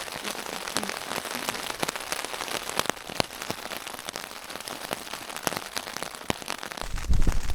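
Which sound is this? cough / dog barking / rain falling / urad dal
rain falling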